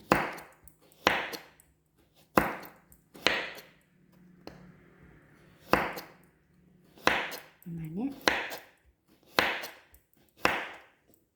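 Repeated sharp knife chops through coconut on a cutting board, roughly one per second, with someone speaking briefly in Thai between strokes.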